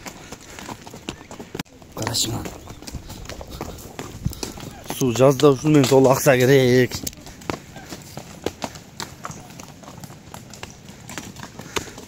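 Horses picking their way over loose stones on a mountain trail, hooves clopping in an uneven, steady patter, with a louder burst of close clattering partway through while people talk throughout.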